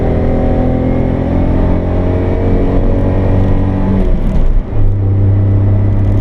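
1991 Honda Acty Street kei mini van engine held near 7,000 RPM, a loud steady high-revving drone heard from inside, with a brief dip and shift in pitch near the end, no talking.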